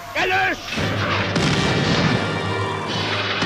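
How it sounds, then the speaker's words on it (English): Booming gunfire and artillery shelling from a wartime newsreel of Germany's 1939 invasion of Poland, a dense continuous roar of blasts that follows a brief voice at the start. "The roar of gunfire replaces the talk of statesmen"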